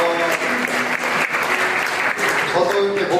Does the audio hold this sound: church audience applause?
yes